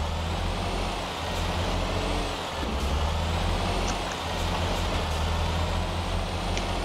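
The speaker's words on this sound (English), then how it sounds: "Goodbye, truck." A truck driving in the video game Garry's Mod gives a steady, loud engine rumble with an air-brake hiss, continuous throughout and heard alone without talk.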